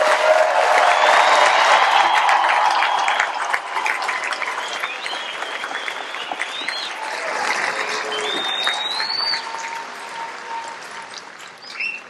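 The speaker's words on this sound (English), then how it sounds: "give them a round of applause" Large audience applause at an Air Force training squadron coin and retreat ceremony, honoring the instructors; dense, loud clapping that gradually thins over about twelve seconds, with a few whistles or chirps near the end.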